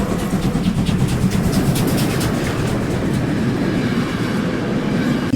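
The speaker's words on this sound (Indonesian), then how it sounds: "ada lokomotif kereta api." A toy railway locomotive gives a steady, loud rolling rumble with rhythmic clickety-clack rail clatter, continuous throughout and with no talking.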